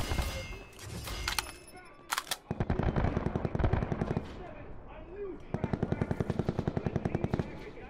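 Rapid automatic gunfire in Black Ops 4 multiplayer, close and fairly loud, in long rattling bursts broken by short pauses, with a few sharp single shots early on and a player's voice talking over parts of it.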